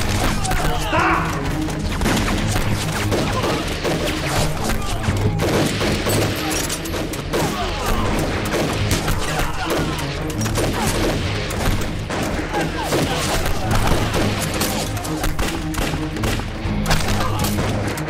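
Dense gunfire from rifles, light and heavy machine guns in a war film about the Eighth Route Army fighting Japanese troops: nonstop overlapping bursts and shots, loud and close, with voices mixed in throughout.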